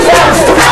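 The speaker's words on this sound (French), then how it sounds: "une foule en liesse" A jubilant crowd cheers and gives an ovation for a fisheries minister being welcomed in Faranah. A dense, loud roar of many voices lasts the whole brief moment.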